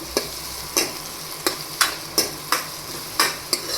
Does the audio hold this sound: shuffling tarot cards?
no